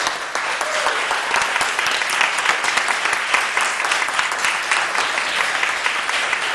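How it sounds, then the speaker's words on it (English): A theater audience gives a loud, dense round of applause at the end of a show, a continuous roar of clapping that holds steady throughout. "one more nice round of applause for our"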